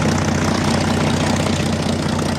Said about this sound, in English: a group of US Wildcat fighters and dauntless dive bombers